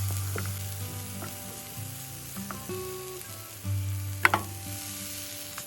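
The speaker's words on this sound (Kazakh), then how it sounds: "Қызанақ кішкене қуырылғаннан кейін" Tomatoes frying in oil in a pan give a steady, close sizzle throughout, with a brief clatter of the pan or utensil partway through and no talk.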